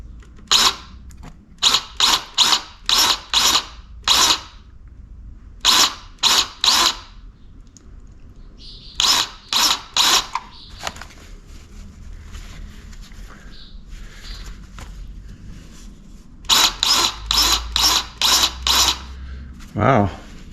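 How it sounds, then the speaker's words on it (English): A hand grease gun pumps fresh grease into the front wheel hub of a 1946 John Deere tractor, giving close, sharp clicking strokes in quick bursts of several pumps separated by pauses. "So the only way to know is to pump some grease into this guy and see if it comes out this hole"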